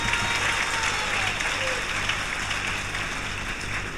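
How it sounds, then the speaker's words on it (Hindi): An audience at a Hindi religious discourse claps steadily, a broad, even wash of many hands with faint talking and a low droning hum underneath. "ताली तो बजा दो यार"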